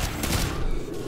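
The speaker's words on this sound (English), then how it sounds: "a grenade that I didn't know existed" A grenade blast in Call of Duty Modern Warfare 2, a dull booming burst with rumbling low end that quickly fades into the game's background noise.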